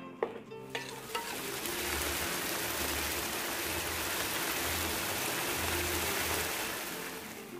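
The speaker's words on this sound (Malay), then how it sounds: "Dan kita akan masak sehingga dia kering lah ya, sehingga dia agak kekeringan" A spice paste with tamarind water for coconut serunding fries in a pan until dry, giving a steady dense sizzle after a few clinks of utensils at the start.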